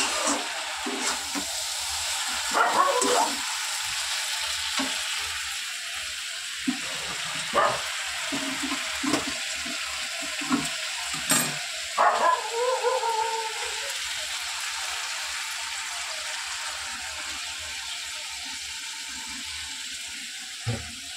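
Shukto vegetables frying in a pan with water added, giving a steady soft sizzle and bubbling with occasional stirring clinks and scrapes, close and alone without talk.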